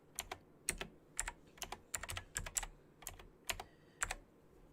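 Quick bursts of keystrokes on a computer keyboard as a zipper's price is entered into fashion costing software, crisp close clicks in irregular clusters with short pauses, no talk.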